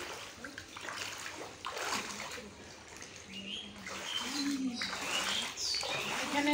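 Floodwater from overnight rain splashes around a house, a steady close wash of water with bird chirps calling over it.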